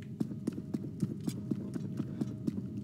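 Horse hooves clip-clop in a video game, an even, steady run of crisp hoofbeats about four per second over a low background hum.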